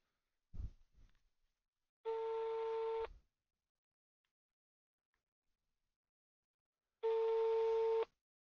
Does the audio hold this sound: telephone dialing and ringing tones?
yes